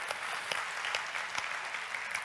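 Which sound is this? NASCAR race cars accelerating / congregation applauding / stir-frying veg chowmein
congregation applauding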